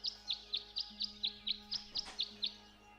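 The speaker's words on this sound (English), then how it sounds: "The birds seem to like it. They're even singing a little tune." Birds in the video game Tangle Tower chirp a repeating tune: about a dozen evenly spaced bright tweets in a steady rhythm, with a soft tonal backdrop and no speech.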